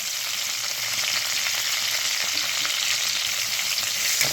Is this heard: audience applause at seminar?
no